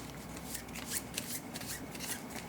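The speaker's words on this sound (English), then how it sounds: "This deck is now empty, so I'm going to shuffle all the cards back" A deck of playing cards is shuffled up close during a solo Expeditions board game session, giving a steady, riffling flutter of card edges that runs continuously for a couple of seconds without speech.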